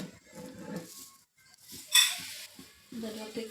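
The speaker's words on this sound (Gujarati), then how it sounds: "હવે એમાં ખાંડ નાખીને ધીમે ગેસે મૂકી દઈ અને તમારે પોતા થતા જાય અને હલાવતી જઈશું।" Homemade tomato sauce with sugar stirred in a pan over low heat, quiet scraping and clinks of a spoon against metal with one brief louder hiss, while a voice talks in between.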